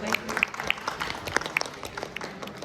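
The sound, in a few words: audience applause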